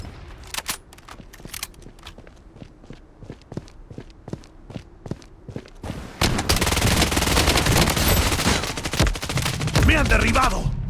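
Rapid bursts of automatic gunfire from a defensive turret in the shooter game Bloodstrike crackle in sharp repeated shots, then give way to a dense, loud barrage of continuous fire and battle noise.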